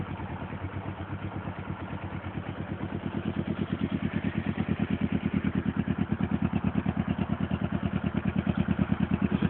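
Motorcycle engine running steadily after starting, a rhythmic mid-pitched idle with light clatter, growing slightly louder and close by, with no talking over it.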